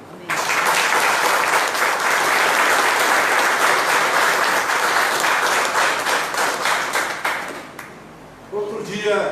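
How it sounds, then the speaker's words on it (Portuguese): Congregation applauding during an online church service, loud dense clapping sustained for about eight seconds before thinning out, with a voice starting to speak at the very end. "Aplauda ao Senhor."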